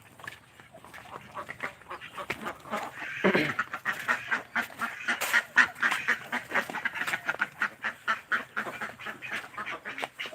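A flock of domestic ducks quacking close by on a farm, a rapid run of repeated honking calls that grows louder after the first few seconds and continues in a busy, overlapping rhythm.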